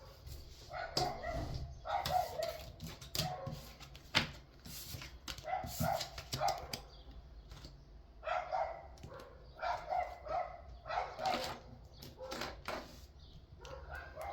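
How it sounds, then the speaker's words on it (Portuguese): A dog barks repeatedly in uneven bursts over a steady room hum, some yips and whimpering sounds mixed in, moderately near. "Se ouvirem cachorro latindo, eu não posso fazer nada"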